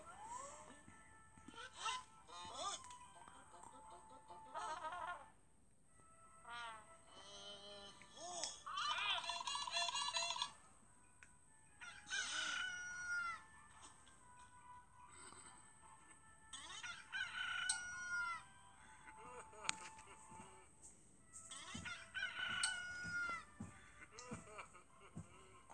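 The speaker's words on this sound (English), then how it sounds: "They hear the rooster crow." A rooster crows several times in a children's Bible story about Peter's denial, with repeated clear crowing calls spread across the passage, close and fairly loud, among cat-like meowing sounds and other animal noises, with no talk.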